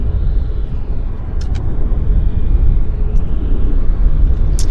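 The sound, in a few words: WestJet airliner at Vancouver airport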